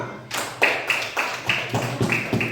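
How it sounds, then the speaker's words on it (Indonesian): Classroom group clapping in a few quick bursts, sharp separate claps coming in an uneven rhythm with short gaps, fairly close and clear, no talking over it. "Tepuk tangan buat kelompok A."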